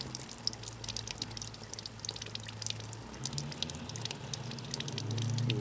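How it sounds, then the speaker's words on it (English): Cooling-system flush drains and drips out of a 2000-2007 Ford Taurus, a steady trickle with scattered close splashes and drips, quiet and continuous, no talking. "That's the flush still in the system coming out of there."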